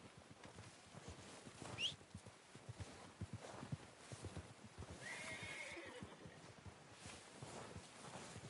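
A horse whinnies amid a busy stretch of hoof clip-clops and footsteps, with a second, higher neigh later, all fairly quiet and close.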